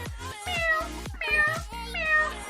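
A person imitates a cat during an animal-sounds guessing game, giving a few drawn-out, close meows one after another with short breaks between them.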